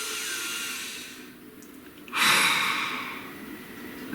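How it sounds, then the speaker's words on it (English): A person takes one deep breath close to the microphone, a soft hiss rising into a louder, breathy exhale that fades out, without talk. "Please take a nice deep breath."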